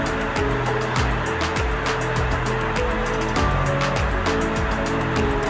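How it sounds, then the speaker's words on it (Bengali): Flour dough snacks deep-fry in hot oil, a dense, continuous sizzling hiss with scattered crackles and pops throughout, close and steady with no talking. "তো এটাকে ধৈর্য সহকারে কিন্তু ভাজতে হবে, আস্তে ধীরে খুব সুন্দরভাবে দেখবেন ক্রিস্পি হয়ে ভেজে আসছে।"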